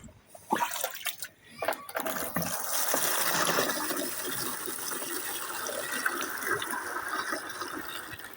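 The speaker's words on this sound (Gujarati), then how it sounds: "5-6 ગાગર પાણી કાઢી લઈએ." Water being drawn in a gagar pot for watering flowers in a village yard, heard as a few knocks and splashes followed by a steady, close rush of pouring water that runs on without a break.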